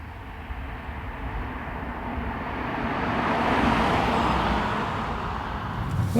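A Toyota Corolla hybrid creeping along slowly in EV mode, a low steady rumble of tyres and road noise inside the cabin that swells gently midway, with no engine note and no voices.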